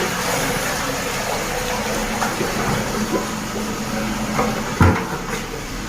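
A large drain cleaning machine runs steadily on a blocked floor drain, a continuous mechanical drone with low rumble and a brief louder knock near the end.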